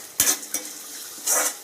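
Onions cooking lightly in a pan for poha upma give two short bursts of stirring and sizzle with a spatula scrape, close and fairly loud, separated by a quieter pause.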